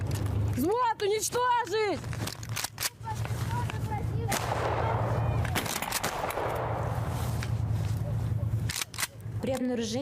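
Soldiers firing weapons in a military exercise, sharp close gunshots cracking in bursts with some echo, mixed with shouted commands and talking.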